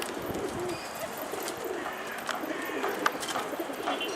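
Soft pigeon cooing over a busy background of rustling and distant noise, with no talking.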